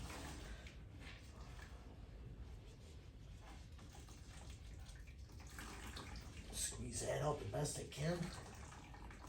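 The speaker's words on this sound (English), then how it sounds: "I'm just rinsing it in there and agitating it around like they showed on the video." Filter being rinsed and agitated by hand in a container of water, with soft sloshing and splashing that grows busier toward the end, under a voice.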